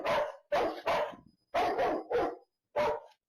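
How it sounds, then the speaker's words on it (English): A dog barks at other dogs in security camera footage: six loud, sharp barks in irregular bursts with short gaps between them, close to the microphone, and no voices. "In security cam video, you can see a homeowner's dog barking at the dogs."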